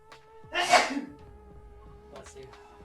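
A single sharp human sneeze, close and clear, followed by quiet room tone and faint stray noises.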